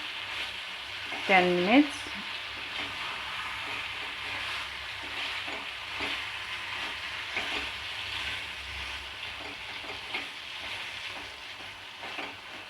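Chicken frying in a pan gives a steady, close sizzle throughout, with a voice speaking briefly near the start.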